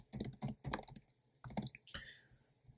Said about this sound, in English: So I'm going to type another comment here.